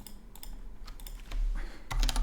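Mouse and keyboard clicks at a computer, with a run of rapid light taps followed by a few louder, closer clicks while colors are added in poker range software, with no voice heard.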